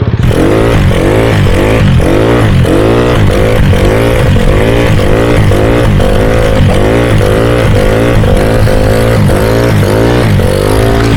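A motorcycle held in a slow wheelie revs loudly and close, its engine pulsing in a steady rhythm of rising and falling throttle bursts throughout.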